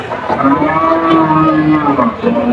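A plump cow lowing loudly and close at a busy Qurbani cattle market in Mymensingh, one long drawn-out moo that fills the whole moment with no other sound rising above it.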